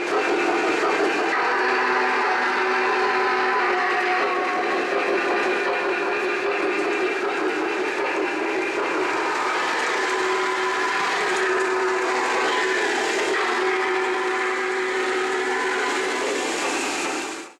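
A model T1 Duplex steam locomotive runs with a continuous mechanical rumble and sustained whistle-like tones layered on top, steady and close throughout.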